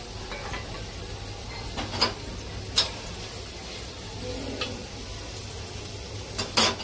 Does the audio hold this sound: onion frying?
yes